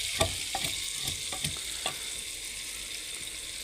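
Onions frying in ghee in a home kitchen give a steady, soft sizzle, with a few faint scrapes and clinks of stirring. No voices can be heard.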